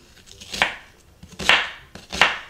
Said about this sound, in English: I'm just going to kind of cut them into chunks